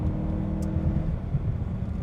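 BMW E92 M3 with its 4-liter V8 in M dynamic mode, a steady, loud, low engine drone that holds throughout with no clear rev spikes.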